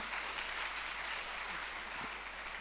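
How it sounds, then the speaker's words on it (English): Steady applause from an audience, a dense continuous wash of clapping that holds evenly at moderate loudness throughout. "let's give them a round of applause"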